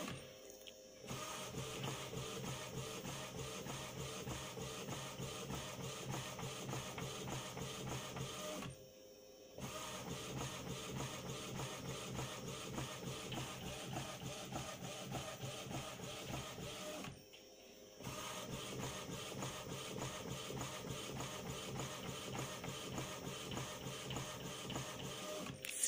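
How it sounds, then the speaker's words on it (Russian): A Unik food printer printing on ordinary paper at home, a steady mechanical whirring and rapid clicking that runs for long stretches, broken by two short pauses, with no talk. "Все, принтер печатает."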